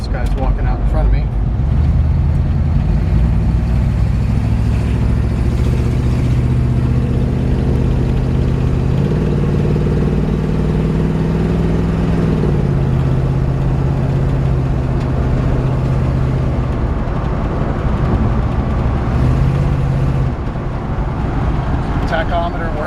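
A 1950 Chevrolet 3100 pickup truck drives along a road, its low engine drone and rumble steady and close throughout while a person talks over it.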